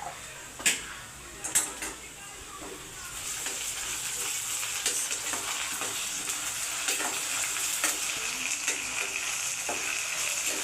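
Ginger garlic paste sautéing with onion in a pan for mutton rassa: a steady, close hiss of frying, with sharp utensil taps and clinks early on and faint voices in the background.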